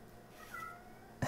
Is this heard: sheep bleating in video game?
no